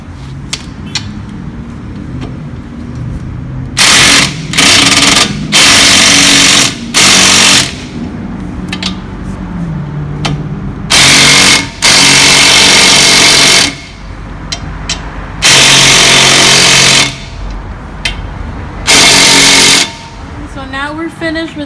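Power tool driving 14 mm caliper bolts back onto a 2004 Nissan Altima during a wheel hub and bearing job, several loud buzzing bursts of one to two seconds each, spaced apart, with someone talking between them.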